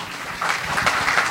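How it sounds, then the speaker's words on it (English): Audience applause after a panel discussion on the science of aging, a steady wash of clapping that swells after a quiet start and holds at a moderate level. "a round of applause for our very"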